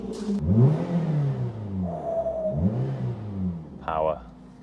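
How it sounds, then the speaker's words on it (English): The 1.5-litre engine of a Suzuki Ignis Sport revs twice with rising, swelling induction noise, each rev climbing and falling back, close and fairly loud, with a short high whir near the end. "Let's give it a little rev. You've got to love a bit of induction noise."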